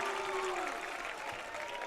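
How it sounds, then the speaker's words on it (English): A distant crowd roars at a high school football game between Father Ryan and Baylor in 2018, a steady wash of cheering with a faint tonal whistle near the start; no clear shouted name stands out. "as you heard that crowd over there shouting Moose as they were saying that he broke up that pass"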